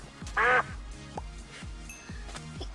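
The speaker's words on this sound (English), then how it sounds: "there's a duck now in Minecraft" One loud, nasal duck quack in Minecraft stands out over a low, rhythmic background of soft thumps and game-like noises.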